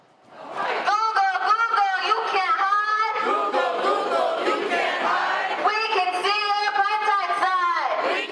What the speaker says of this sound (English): crowds gathered in San Francisco to protest